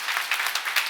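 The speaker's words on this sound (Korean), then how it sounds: "빨리 박수해." A church congregation at a seminar claps briefly, a short burst of many hands with light pulsing swells, close and fairly loud.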